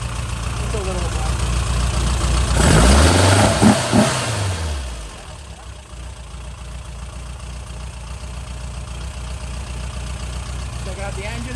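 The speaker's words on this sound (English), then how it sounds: "Check out the engine running with the sweet new OUTLAWED hinges" A Porsche Speedster replica engine runs nearby, a rough idle that rises into a brief rev with a swelling then falling pitch before settling back to a steady idle.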